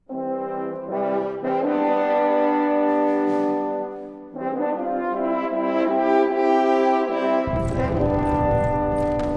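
Orchestral music from a World War II video game, with sustained brass and string chords swelling over about nine seconds, pausing briefly midway, then rising again to a louder close with percussion; no voices.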